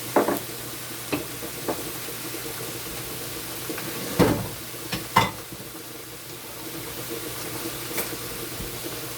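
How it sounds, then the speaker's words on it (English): Tomatoes being stirred into a sizzling pot for Jamaican steamed fish, a steady hiss of frying with a few scraping spoon knocks and clatters on top, close and fairly quiet. "I'll just stir in the tomatoes."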